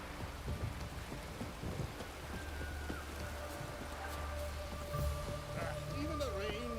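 Steady rain pattering in a town scene in The Witcher 3, with low rumbling thunder, a few faint tones and voices underneath.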